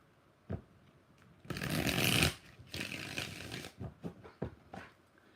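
A tarot card deck being shuffled, with a few short riffling bursts and soft card slaps, close and fairly loud, with no talking.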